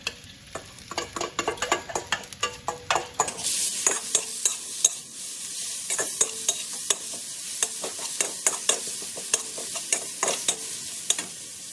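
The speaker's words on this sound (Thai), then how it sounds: "มาเริ่มผัดกันเลยนะคะ ใส่น้ำมันลงไปค่ะ จากนั้นนะคะก็ใส่ พริกกระเทียมแล้วก็หอมแดงที่เราตำลงไปค่ะ" A pounded chili, garlic and shallot paste stir-frying in oil for a spicy Thai seafood stir-fry: brisk rhythmic spatula scrapes, then a loud steady sizzle once the paste hits the hot oil, with stirring ticking on over it.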